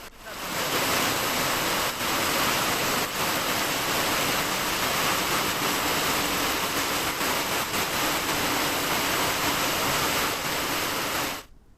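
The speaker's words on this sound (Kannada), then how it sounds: "ಮಳೆ ಹನಿ ಆಗ್ತಾ ಇದೆ, ಸೋರು ಹೋಗ್ತಾ ಇದೆ" Heavy rain pours and drips through leaks at Arsikere railway station in Hassan, a dense, unbroken roar of water, loud and close, continuing evenly throughout.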